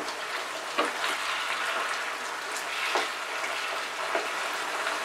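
Mixed vegetable curry (Bengali niramish panchmishali sobji chhokka) sizzles steadily in a pan over raised heat, with a few soft scraping stirs breaking through the continuous frying hiss.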